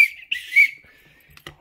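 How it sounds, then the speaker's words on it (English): A whistle blown to call cats for their food treats, giving one sustained shrill tone that wavers and swells for about a second, fairly loud and close, followed by a short clatter. "If I blow the whistle, they'll all come for food"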